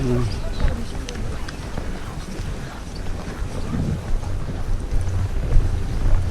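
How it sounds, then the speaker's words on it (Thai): Wind gusts buffet the microphone on a ski slope at Keystone, making a rough, uneven roar throughout while voices are heard underneath. "ข้างล่างมันมีลม"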